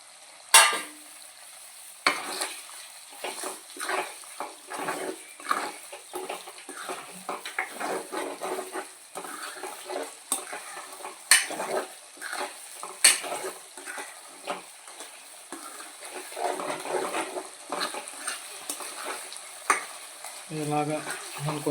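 Prawns fry in hot oil for prawn pickle, sizzling steadily while a utensil scrapes and stirs the pan in irregular bursts, close and without talk.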